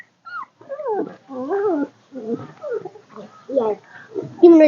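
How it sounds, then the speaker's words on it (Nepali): A dog whimpers and whines in a series of rising and falling yelps, near and fairly loud, amid children playing, with voices audible around it. "ये के हो कुकुर"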